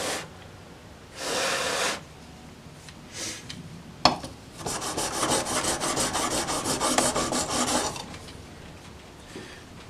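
A steel chisel bevel, colored with marker, rasps back and forth on a sharpening stone in two short bursts, then a longer steady run of rhythmic strokes, fairly close with no voices.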